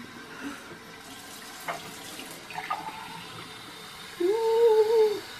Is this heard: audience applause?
no